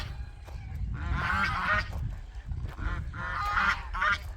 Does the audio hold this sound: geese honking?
yes